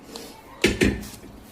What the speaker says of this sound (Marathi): नंतर आता आपण याला एका कुकरच्या भांड्यामध्ये टाकूया.